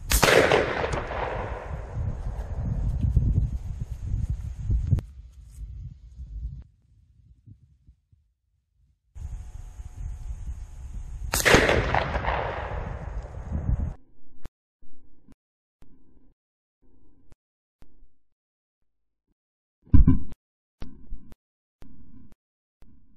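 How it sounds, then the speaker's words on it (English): Two loud, close blasts from a 12 gauge shotgun fired at a pumpkin 15 yards away, each followed by a long decaying boom, with softer knocks and handling noises between and after. "then shoot the pumpkin at 15 yards"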